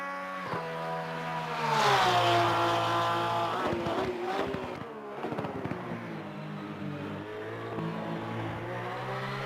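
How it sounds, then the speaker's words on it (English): A video game race car engine, a Lexus RC F or Porsche 992 GT3 R at Monza, screams up through the revs, with sharp pops as it shifts gears and climbs again, steady and prominent. "I love the shifts on that car. You hear it popping when it shifts, like it's upshifting."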